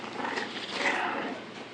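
Bully-breed puppies of the Gottiline line scuffle in a play brawl, giving off a continuous rough, rasping growl that stays close and steady for under two seconds, with no clear talk over it.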